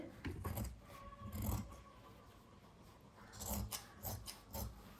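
Scissors cut fabric along the neckline of an A-line top, giving close crunching snips and rasping slides in short clusters with quieter gaps between.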